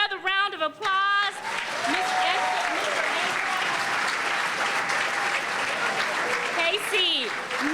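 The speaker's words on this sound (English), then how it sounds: "I just want to give them another round of applause." Sustained audience applause at a Martin Luther King Jr. memorial breakfast, a dense steady wash of clapping from many hands lasting throughout, with some voices and cheering mixed in at the start and end.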